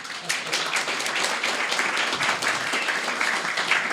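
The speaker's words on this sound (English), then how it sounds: "A round of applause." An audience applauds Bruce LaBruce at a film screening and talk on Pasolini's "Teorema", with dense, steady clapping filling the room for four seconds and no speech over it.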